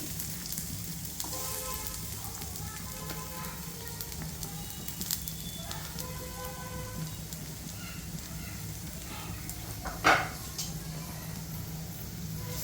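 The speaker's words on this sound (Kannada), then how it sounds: "ಈರುಳ್ಳಿ ಒಂದು ಸ್ವಲ್ಪ ಚೆಂದಾಗಿ ಫ್ರೈ ಆಗಲಿ" Chopped onions frying in about two tablespoons of hot oil for a bitter gourd curry, a steady close sizzle and crackle running throughout with one sharper pop near the end.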